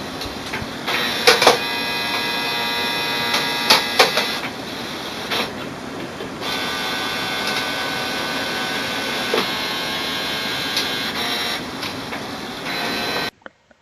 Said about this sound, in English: the automatic document feeder will flip the page automatically on the ADF